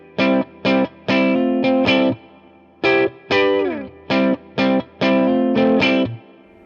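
A distorted electric guitar, a 2016 Gibson Les Paul Standard in the middle pickup position with both humbuckers, plays a choppy riff of short chord stabs and a few sustained notes, loud and close with a thick, warm tone.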